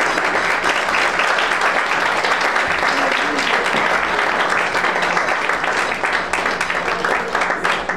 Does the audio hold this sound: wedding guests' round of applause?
yes